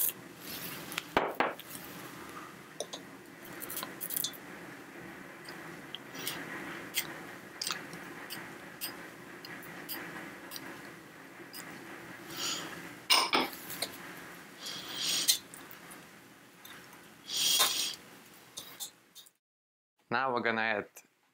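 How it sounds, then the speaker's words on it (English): A whisk scraping and clinking against a pot as chocolate and peanut butter are stirred into a hot 230-degree candy mixture, irregular close taps and scrapes over a soft background, ending with a brief voice. "now we're gonna whisk in chocolate and a peanut and butter."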